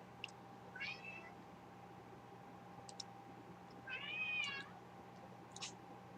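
A pet cat meows twice, a short call near the start and a longer, drawn-out meow a few seconds later, heard fairly close over a quiet indoor hum with no talking.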